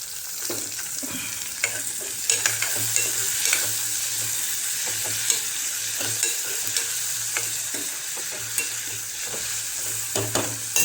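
Tomatoes fry in a pan for a dry vegetable dish, with a steady sizzle throughout and repeated close scraping and clinking of a spoon stirring them.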